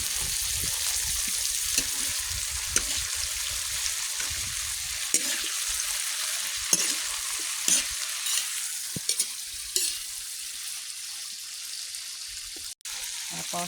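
Mixed vegetables with string beans sautéing in a pan for a simple home-cooked dish, a steady close sizzle and crackle of frying with occasional stirring scrapes, briefly cut by a sharp click near the end.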